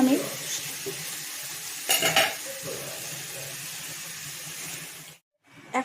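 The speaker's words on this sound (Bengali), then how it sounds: "এখন আমি মশলাটা কষিয়ে নেবো যতক্ষণ না তেল ছাড়ছে" Spice paste fries in oil for a potato, cauliflower and soy chunk vegetable curry, a steady close sizzle with spoon scrapes and clinks against the pan, a louder stirring burst near two seconds, then a brief pause before sizzling resumes.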